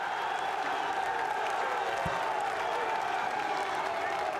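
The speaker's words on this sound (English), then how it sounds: "Well, the crowd erupts" An esports crowd at an EA Sports FC 24 tournament in the Esports World Cup cheers and applauds after a goal, a steady distant roar beneath a commentator's voice.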